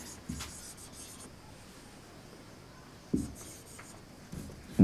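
Chalk or a marker writes a sentence on a classroom board in short, faint scratchy strokes with pauses between them, over a low, steady room hiss.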